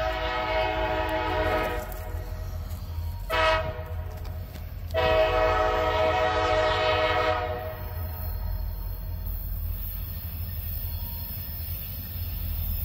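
Locomotive 7012 rolls past with a loud, sustained horn that sounds in two long blasts with a short break between, over the steady rumble of the train passing close by.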